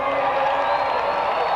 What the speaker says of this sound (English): And the crowd appreciates that.